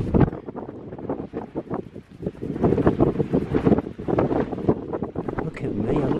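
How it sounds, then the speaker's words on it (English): Strong gusts batter the microphone among large rocks in the Lake District, giving a loud, rumbling buffet that comes in uneven bursts and swells. "the wind is found itself around this large set of rocks, and it's now battering me"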